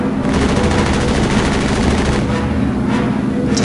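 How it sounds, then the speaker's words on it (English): Rapid Tommy gun fire in the Back to the Future Part III video game, a dense, continuous burst of loud automatic shots running the whole stretch with a thick, steady roar beneath. "Tommy gun."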